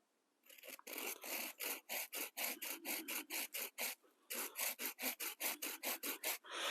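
A hand saw cuts through a length of wood outdoors with fast, even back-and-forth strokes. The strokes are loud and close, with a short pause near the middle before the rhythm resumes, and no one talks.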